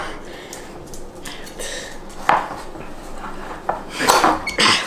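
A knife cuts through cooked shortbread on a plate or board with scraping and clinking knocks of cutlery and dishes, amid kitchen movement.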